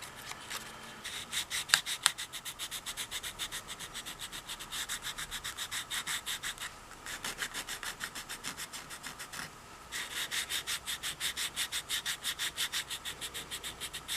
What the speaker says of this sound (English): right now I just want to get this sanded down